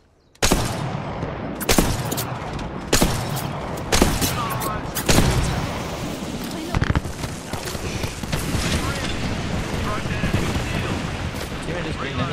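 Enemy gunfire in a ranked Apex Legends match, loud bursts of automatic shots and impacts spread through the clip, with a player talking over the fighting.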